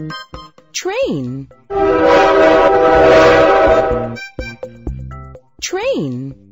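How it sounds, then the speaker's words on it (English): A train passes with a long, loud horn blast held for a couple of seconds, framed by brief chime-like tones before and after it. "Train."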